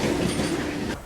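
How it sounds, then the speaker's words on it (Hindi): A long-distance Duronto express train pulling out of Edappally railway station in India, a steady loud rumble of rolling wheels and carriage noise close by, easing slightly near the end, with no talk. "तो फाइनली अब जाके ट्रेन एडापल्ली रेलवे स्टेशन से निकल रही है।"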